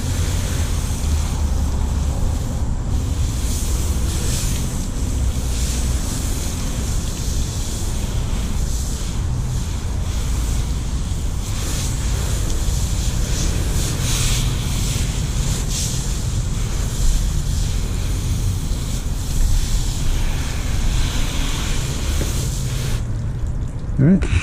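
Water rinse sheeting off a car freshly treated with P&S hydrophobic coatings, a steady broadband rushing spray that runs continuously and close for the whole stretch, ending with a brief clatter.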